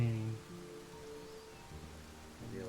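Faint, steady rain patters softly, with a low humming tone at the very start and end.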